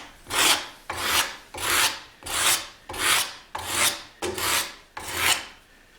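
A hand scraper shaves the wooden neck of an electric guitar in seven even, rasping strokes, each swelling and fading in a steady rhythm, close and clear with no voices.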